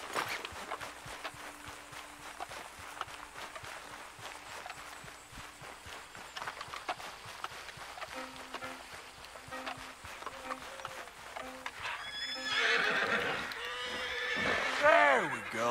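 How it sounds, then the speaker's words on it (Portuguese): Horse hooves clop steadily and a horse whinnies loudly near the end in the Red Dead Redemption 2 video game, with a game soundtrack and a voice talking over the trotting. "Cavalo ali, vamos ver se eu consigo domar."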